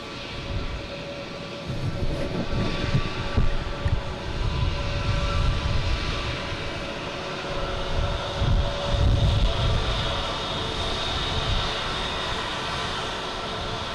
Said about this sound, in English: We got the Spirit Airlines here making all kinds of racket